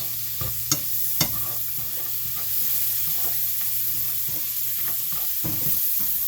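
Food frying in leftover steak juices sizzles steadily in a pan, with a few sharp utensil taps and stirring scrapes near the start, close and constant without talk.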